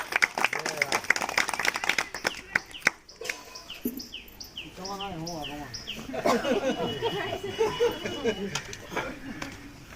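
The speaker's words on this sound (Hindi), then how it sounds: "आगे की जानकारी के लिए सुमन जी को बुलाना चाहते हैं। जोरदार तालियों के साथ जय" An audience applauds at an RCM business meeting with a burst of clapping in the opening seconds, then voices talk over chirping birds for the rest.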